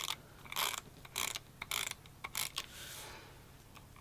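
Paper is trimmed for a travel album: a series of short, crisp cutting strokes in quick bursts, close and fairly quiet, with no voices.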